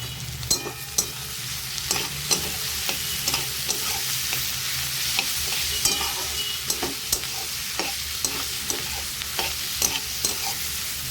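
Grated garlic frying in oil with onions in a pan for chicken kosha, a steady close sizzle broken by repeated sharp scrapes and knocks of a spoon stirring, with no talking.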